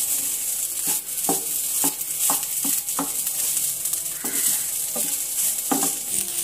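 Carrot rice stirred with idli podi in a sizzling pan, a spatula scraping and tapping in a loose, irregular rhythm over a constant close fry.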